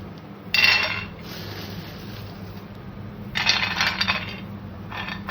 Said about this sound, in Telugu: అందులో కొన్ని మనకు ఎంత కావాలో అంత పల్లీలు వేసుకోవాలి